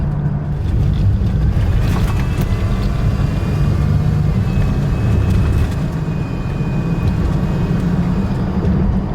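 A 2003 Toyota Tacoma fitted with a TRD supercharger idles and revs gently while warming up, giving a loud, steady engine drone with a faint high whine running through it.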